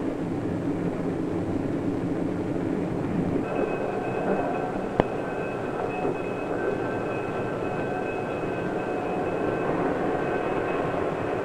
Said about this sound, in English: a small station where the train stops only for a moment